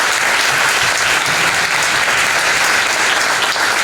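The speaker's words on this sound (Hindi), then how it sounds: "तो ये सब के लिए एक बार सब तालियां बजाएं" A crowd applauds steadily and loudly throughout, a continuous dense wash of clapping with no talk over it.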